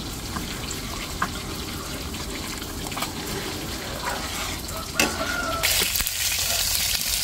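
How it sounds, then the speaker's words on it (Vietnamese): Fish frying in hot oil gives a dense, steady sizzle and crackle, close and continuous, growing a little louder toward the end, with no voices. "Bây giờ cá chiên cũng được rồi."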